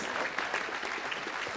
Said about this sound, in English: Please thank these people with your applause